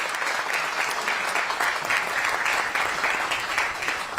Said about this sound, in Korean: 모든 분들께 큰 축하의 박수 한번 보내주시면 감사하겠습니다